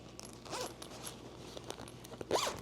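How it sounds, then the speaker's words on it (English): Two quick pulls on a handbag's outer zipper, each a short rasping zip, the second slightly louder, with quiet handling sounds between. "you can now zip it with that outer zipper to compress them"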